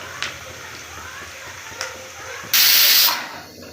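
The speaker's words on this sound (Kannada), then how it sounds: "ವಿಷಲ್ ಬಂತು." Steam bursts loudly from a pressure cooker whistle while chicken biryani cooks, a sharp hissing blast lasting about half a second near the end, after a couple of faint clicks and quiet kitchen background.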